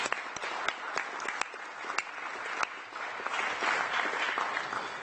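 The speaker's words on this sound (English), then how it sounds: "I think that deserves a round of applause, ladies and gentlemen." Applause from the audience at a council cabinet meeting: irregular clapping from a modest group, with individual sharp claps standing out near the start and a fuller patter building toward the end, moderately close and with no speech.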